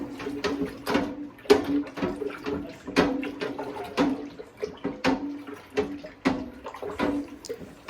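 A batch of homemade banana wine brew is stirred briskly in its container, giving repeated close sloshing and splashing strokes in a steady rhythm.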